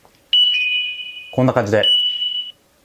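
HHOGene GPods earbuds sound their find-my buzzer, a loud, sustained, high electronic tone that continues with a brief break while a person speaks over part of it.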